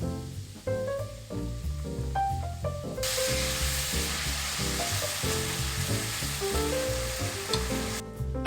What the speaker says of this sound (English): And then add the kimchi.